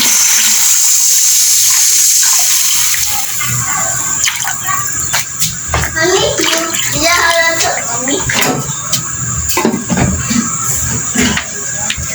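Water pours into a cooking pot for a Filipino sotanghon soup with patola, petsay and chicken, a steady splashing rush running throughout with clinks and knocks mixed in and some faint voices in the background.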